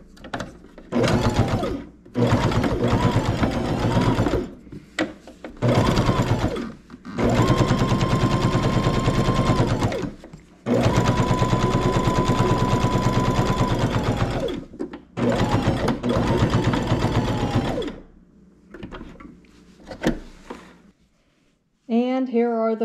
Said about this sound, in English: where I'm sewing the border onto the edge of the quilt